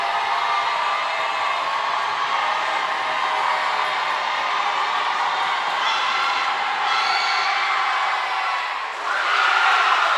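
A high school basketball championship crowd roars continuously in a gym, trying to rattle a free throw shooter, with a dense wall of shouting and cheering that swells louder near the end.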